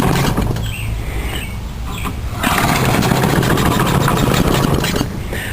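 A small engine runs on homemade charcoal gas in a gridtie setup, a steady rough chugging hum with a rattling patter that grows louder and busier about halfway through, alone without talk.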